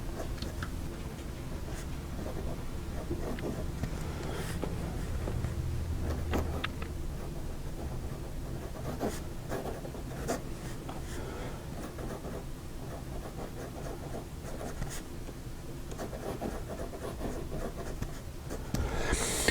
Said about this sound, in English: I inked the pen up with great ink and put nib to paper